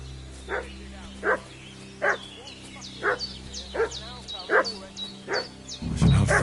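A dog in the video game Kingdom Come: Deliverance barks in a steady series of about nine sharp barks, evenly spaced and moderately close, over a low ambient hum that ends in a louder rumble.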